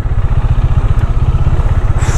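A Bajaj Dominar motorcycle engine throbs loudly and close inside a fort, with a fast, even low pulsing as the bike rides along.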